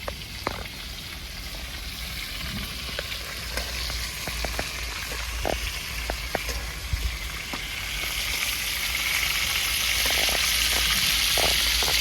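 Giant freshwater prawns fry in hot oil in a wok over a village cooking fire, giving a steady, close sizzle with scattered sharp pops and crackles that builds slightly louder toward the end.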